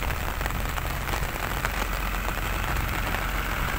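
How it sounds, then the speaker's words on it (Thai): Heavy rain pours down in a steady, dense roar with a faint engine idling underneath, loud and constant throughout. "ฝนถล่มแล้วครับ"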